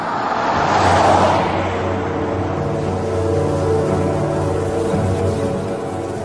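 A single car drives across open desert, a steady low engine drone with a broad rushing swell early on, then a constant hum with no voices.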